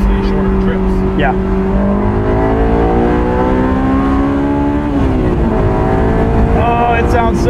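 A 2001 Honda S2000 engine revs up and down while driving, its steady rising and falling drone loud and continuous from the cabin throughout, with people talking over it.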